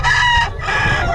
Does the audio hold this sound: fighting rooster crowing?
yes